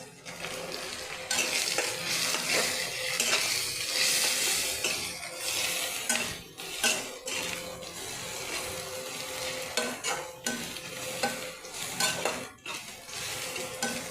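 Ginger, cumin, coriander, chilli and turmeric powders fry together in a pan, giving a soft continuous sizzle with frequent spatula scrapes and the clink of metal on the pan. No voices are heard.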